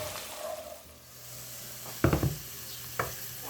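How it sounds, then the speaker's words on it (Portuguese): Onion sautéing gently over low heat in a pan, a faint steady sizzle with a few soft stirring scrapes and clicks, no voices. "Refogue a cebola no fogo baixo."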